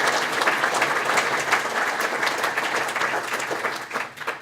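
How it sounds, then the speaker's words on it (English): Sustained applause from an audience at a 50th reunion event, dense steady clapping for several seconds that tapers slightly near the end. "I simply ask for a round of applause for her"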